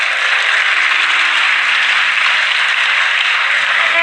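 An audience claps steadily and densely for about four seconds, a continuous hiss-like patter at a close, even level with no voices over it.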